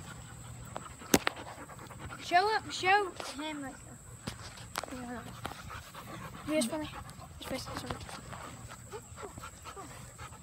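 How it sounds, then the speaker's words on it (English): A puppy, offered for sale, pants in quick bursts close by, with small whimpers and footsteps on the ground in between, while someone talks over it. "Let me show you this dog right here"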